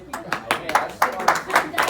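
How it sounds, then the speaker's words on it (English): Small classroom group clapping for Spencer after his presentation, a sparse uneven run of individual hand claps, close and fairly loud, about seven or eight distinct claps over two seconds. "give Spencer a round of applause for his good work"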